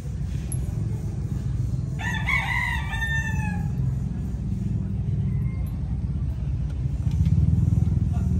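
Farm roosters crow from a moderate distance, one long call rising and trailing off with overlapping crows, over a steady low rumble of background noise.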